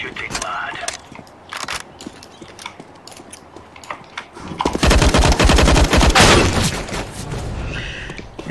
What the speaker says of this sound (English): Oh, that's brilliant shooting, lad.